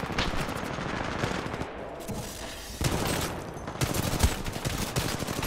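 Titanfall 2 multiplayer gunfire, rapid automatic bursts firing close and loud in repeated strings, with short pauses between volleys and a few sharper single cracks.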